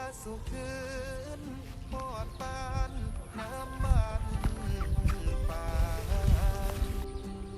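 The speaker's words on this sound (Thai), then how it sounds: "มีไก่ตัวหนึ่งครับ" A chicken clucks around a rural Thai home, in scattered bursts among other steady background sounds.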